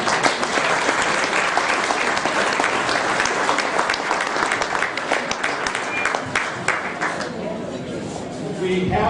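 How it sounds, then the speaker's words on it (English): An audience at a law enforcement night out held by an Asian American group breaks into loud, sustained applause with crowd chatter mixed in, the clapping thinning out near the end. "he deserves a great round of applause"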